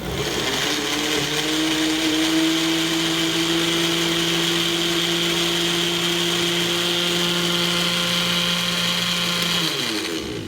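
A blender purees a peanut butter and jelly smoothie, its motor holding a loud, steady whine for about nine seconds before winding down and stopping near the end, with no talking.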